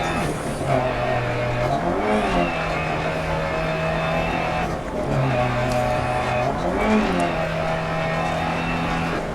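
Rally car engine in DIRT Rally on a gravel stage in Argolis, Greece, droning loud and steady with automatic gear shifts, revs dipping and climbing twice as it upshifts, under a faint voice.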